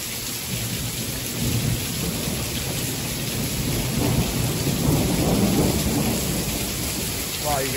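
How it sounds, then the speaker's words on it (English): Thunder rolls in low, drawn-out rumbles during a heavy rainstorm near Big Bear, California, with dense, steady rain hiss filling the background throughout. "Listen to that thunder."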